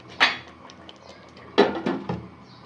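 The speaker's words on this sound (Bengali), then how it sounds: "এখন আমি আবারও ঢেকে দিচ্ছি" A lid set back down on a pot of slow-cooked goat head curry, giving a few close metallic clanks spread over a couple of seconds, with no one talking.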